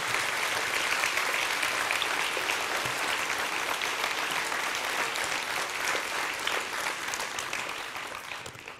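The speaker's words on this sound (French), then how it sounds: "Je pense qu'ils méritent des applaudissements nourris de votre part pour leur engagement et leur travail." Sustained audience applause at a New Year's greetings ceremony, a broad wash of many hands clapping steadily at moderate volume that tapers off slightly toward the end.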